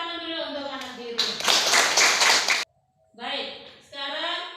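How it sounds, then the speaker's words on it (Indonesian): Children clap their hands together in a classroom, a dense burst of clapping in the middle of the clip, with children's voices before and after it. "Tepuk tangan dulu untuk anak biru."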